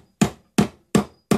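Four sharp, evenly spaced hammer strikes ring out close by as a groundskeeper tries to repair a broken wooden goalpost at a Mönchengladbach–Bremen football match.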